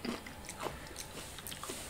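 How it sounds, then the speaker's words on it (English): Close, busy crunching and chewing of spicy Takis rolled tortilla chips eaten from a shared bowl, with irregular bites and mouth noises running steadily throughout. "I got a big bowl for me and Jack to share, so sorry if you hear crunching."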